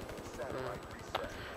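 A Razorback gun in Black Ops 3 multiplayer fires in quick, evenly spaced bursts, a moderately loud rattling stream of shots with a sharper crack near the end.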